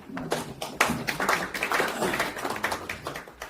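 Audience clapping at a church leaders' forum in a Seoul press center hall, greeting a senior pastor; a small group's scattered, uneven claps heard close and moderately loud, rising then thinning out without speech.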